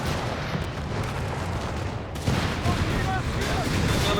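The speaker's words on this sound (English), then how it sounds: "Sherman being shot at" Dense, continuous gunfire rakes a Sherman tank in a Company of Heroes 3 battle, a steady rattle of shots with a sharper burst midway, mixed with battle noise and a commentator's voice.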